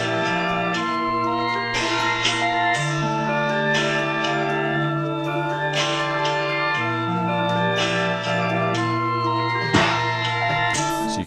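A pitched-up, slightly detuned and distorted vintage sample with vinyl-style crackle and trimmed lows, played as a steady loop with a drum beat driving underneath, full and continuous throughout.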